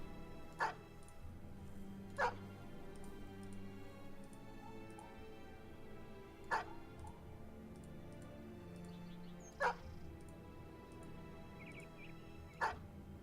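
War dogs in the video game Battle Brothers barking in short, sharp single yaps, five spaced several seconds apart over a quiet, low ambient game background with no talking.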